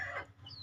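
Young chickens a few weeks old peep and cheep in short bursts, joined by a brief thin high chirp, with a low steady hum beneath throughout.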